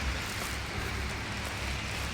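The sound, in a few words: rain falling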